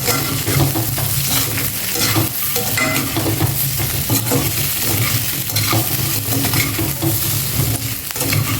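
Baby potatoes fry in an open pan while a spoon keeps stirring them, producing continuous close sizzling with rhythmic scraping and occasional metal clinks against the pan.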